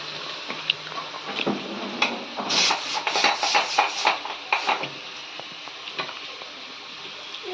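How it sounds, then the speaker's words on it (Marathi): Masala roasting in oil for a chicken dish, a steady close sizzle broken by scraping and tapping of a spoon as it is stirred, busiest in the middle stretch. "मसाला हा तेल सुट्यापर्यंत भाजून घ्यायचे"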